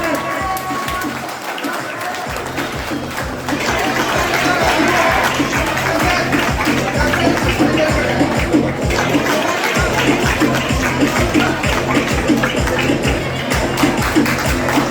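A crowd at a student awards ceremony breaks into loud, sustained clapping that swells after a few seconds and keeps going steadily, with rhythmic patter filling the room.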